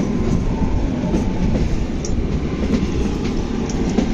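The Kalka–Shimla toy train descends a hill, heard from inside the seventh coach as a loud, continuous rumble of wheels on rails with faint rhythmic clicks and no talking.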